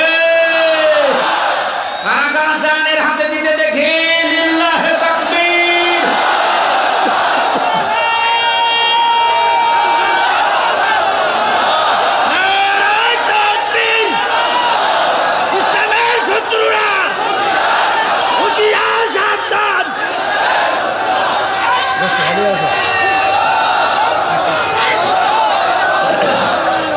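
A vast crowd at an Islamic waz religious rally in Chuadanga, Bangladesh roars back in unison after a takbir call, loud sustained shouting and chanting that fills the space, with a preacher's amplified voice rising over the crowd at the start.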